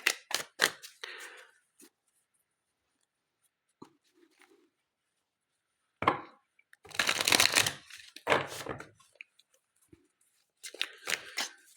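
A tarot card deck is shuffled in separate bursts: a few quick riffles at the start, a longer, denser run of shuffling in the middle, and more brisk riffles near the end, with quiet pauses between.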